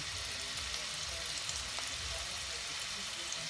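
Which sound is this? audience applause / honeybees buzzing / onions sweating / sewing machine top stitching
onions sweating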